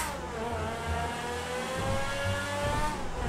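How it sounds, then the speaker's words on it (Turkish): Lamborghini engine in GTA 5 droning steadily as the car drives, a smooth rising engine tone with a faint whine, moderately loud and continuous, alone without talk. "Bu Lamborghini efsaneymiş lan."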